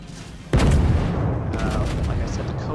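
The main guns of the battleship Konig fire in the World of Warships naval game: one loud, deep boom that rolls into a long rumbling tail.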